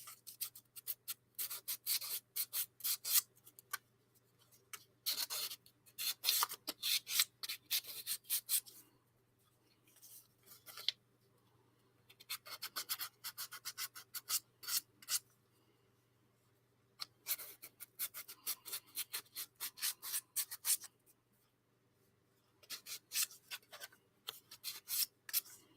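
Rough wooden orrery model parts being sanded by hand, quick scratchy rubbing strokes in bursts separated by short pauses, close and fairly quiet, with no talk.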